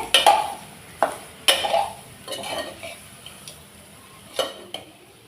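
Soya chunks are stirred through masala in a pan over a low flame, with scattered spoon clinks and scrapes over a quiet sizzle, close and fairly soft, no voices.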